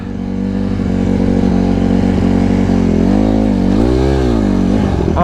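Street-legal Honda CRF150RB dirt bike engine labouring in hot weather, a loud steady mid-pitched drone that bogs and swells unevenly near the end as the clutch is worked to keep it from stalling.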